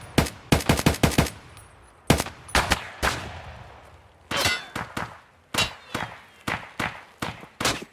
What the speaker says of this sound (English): those shots came from deep out there